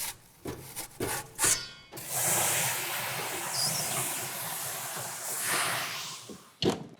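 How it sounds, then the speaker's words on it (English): Steam hisses into an electric oven while sourdough loaves are loaded, a broad sustained hiss for several seconds framed by clattering knocks and door thumps before and after, no talking. "Load the loaves, steam the loaves, get that door open, get the loaves in, and get the door shut quickly"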